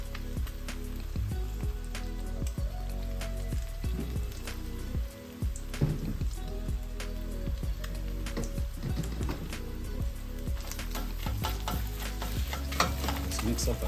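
Vegetables fry and sizzle in a pan while ugali is stirred for a simple Kenyan dinner, a continuous close crackle with repeated clanks and scrapes of the utensil, loud and steady throughout, without talking.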